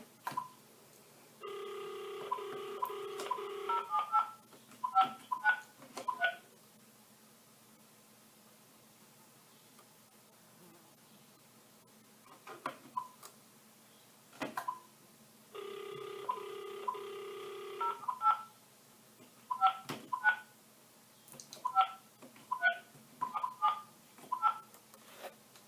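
A telephone sales call being placed: two runs of touch-tone dialing beeps, each followed by repeated ringback tones, with quiet gaps between them.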